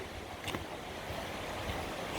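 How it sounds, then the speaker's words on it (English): Steady broadband rush of a running stream along the Kalalau Trail on Kauai, heard alone with light wind buffeting the microphone and no voices. "The stream is running, flowing."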